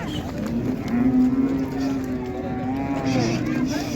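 Ox at a livestock market giving one long, loud moo close by, a sustained low bellow lasting a few seconds over faint market background noise.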